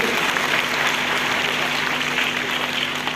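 An audience at a charitable trust ceremony honouring talented students applauds for GS Poddar with steady, dense clapping that holds evenly loud throughout, with a faint hum beneath.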